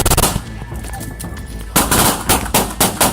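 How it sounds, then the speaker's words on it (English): Gunfire cracks out inside a house during a police confrontation with a drug suspect at a doorway: loud, close shots, a short burst at the start, then a rapid volley of several more near the end. "Suddenly, the sound of gunfire erupted."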